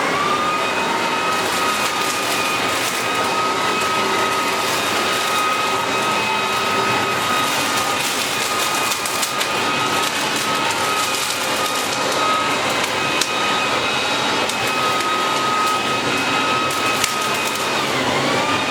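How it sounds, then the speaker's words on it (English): An Ozito 3-in-1 electric leaf blower vacuum runs steadily and loudly up close, sucking up leaves and blowing sand off the ground, a constant high whining roar with a rushing airflow hiss throughout. "We've got some leaves we need to suck up and we're going to blow away some sand we have on the floor here."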